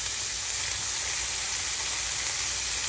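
Pork burger patties sizzle steadily in a preheated pan just after being flipped, a loud, even, continuous hiss with no talking.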